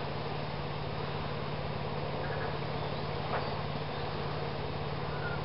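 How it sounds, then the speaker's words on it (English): Bees hover around plum and nectarine blossoms outdoors in spring, giving a faint, steady low buzz that runs unbroken under a quiet background. "The bees won't hold still."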